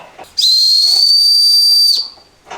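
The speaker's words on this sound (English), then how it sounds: "So we got a turbo whistle that we can install on an exhaust." A car-exhaust turbo whistle blown once, giving a loud, steady, piercing high-pitched tone lasting about a second and a half, with breathy rustle before and after.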